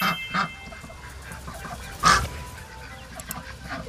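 A mother hen and her chicks cluck and chirp at a farm in the evening, with several soft clucks and one sharper call standing out over quiet background chirping.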